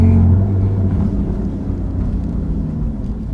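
Lotus Evora 400 sports car heard from inside as it drives, a loud steady low engine drone with a humming tone that fades slightly, no talking.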